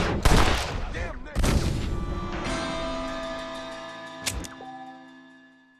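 Gunfire in the Western video game Red Dead Redemption: a few sharp, loud revolver shots, each followed by a long ringing decay, the final shot a little quieter and farther off.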